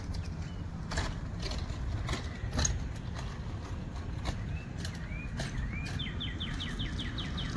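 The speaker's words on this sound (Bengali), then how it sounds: "পাখি ডেকে চলছে, একদম সে বাংলাদেশের মতো" Birds call in a summer woodland in Canada, a few short chirps and whistled notes scattered over a steady low rumble, brief rising tweets growing more frequent near the end.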